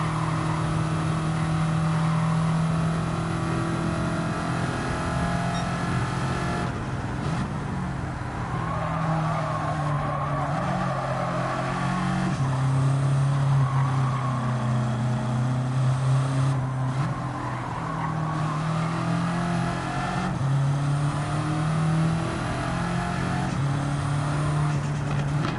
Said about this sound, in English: That turbo flutter is intoxicating.